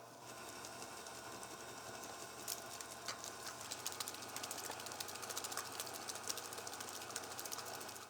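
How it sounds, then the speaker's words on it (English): An electric mixer on medium-low speed beats batter with a quiet, steady whir, faint rhythmic ticking and clicking of beaters against the bowl throughout. "I just put my mixer on medium-low"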